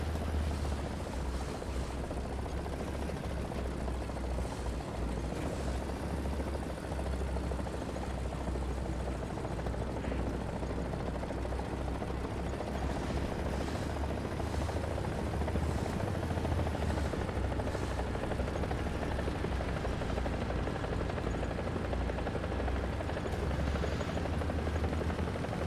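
A helicopter in the War Thunder video game thrums steadily for the whole stretch, a continuous rotor and engine drone with low-end throb and no speech.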